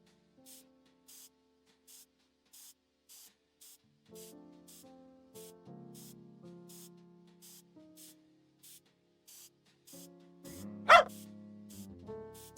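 Cartoon dog in the Frog Detective video game, a few short yips and barks over a light, repeating musical game soundtrack, with one sharp louder burst near the end.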